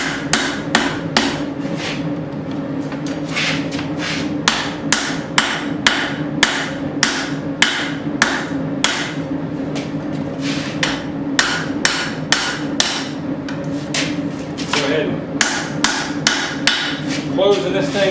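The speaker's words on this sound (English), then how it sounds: "I'm going to forge weld everything out the front." Loud, close hammer blows ring out on hot steel as a short-bodied tomahawk is forge welded, dozens of sharp strikes in quick rhythmic bursts separated by short pauses.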